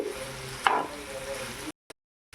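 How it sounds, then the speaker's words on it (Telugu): Prawns coated in masala fry in a pan with a soft, close sizzle and a stir or scrape partway through, then cut off abruptly. "ఈ మసాలా మొత్తం కూడా దీనికి పట్టేలాగా మంచిగా ఫ్రై చేయండి ఫస్ట్."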